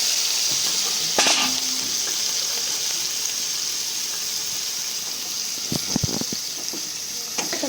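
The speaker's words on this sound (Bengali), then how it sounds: "এরপর আমি এই তেলের মধ্যে একটু সাদা জিরে অ্যাড করে দেবো।" Cumin seeds and cut potatoes hit hot oil, giving a steady loud frying hiss close up, with a few clanks and scrapes of utensils against the pan.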